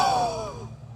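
A single powerful exhalation during a yogic breathing exercise, a forceful breathy rush that starts strong and trails off within a second, close and alone.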